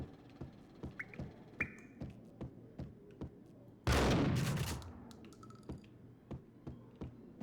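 Gunfire in the video game Max Payne: a steady run of sharp, separate shots, about two per second, with one longer loud burst of blasts midway, all fairly quiet and without talk.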